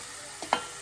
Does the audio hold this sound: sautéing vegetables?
yes